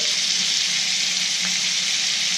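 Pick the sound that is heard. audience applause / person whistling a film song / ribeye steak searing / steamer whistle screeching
ribeye steak searing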